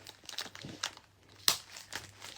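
Fragile packing tape crinkles faintly as it is handled, with scattered soft rustles and one sharper crackle in the middle.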